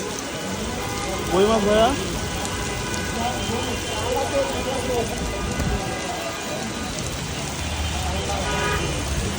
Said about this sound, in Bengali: মুষলধারে বৃষ্টি। এই শিল পড়তেছে একদম অন্যরকম।